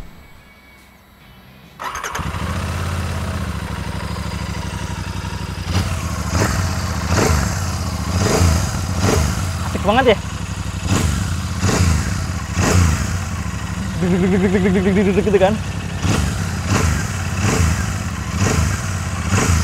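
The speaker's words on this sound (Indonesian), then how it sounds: "Oke, sama-sama kita dengerin suaranya yuk." Royal Enfield Super Meteor 650 parallel-twin cruiser with 270-degree firing order starts up after a moment of quiet, then idles with a steady low throb, repeatedly blipped to higher revs; someone speaks briefly over it.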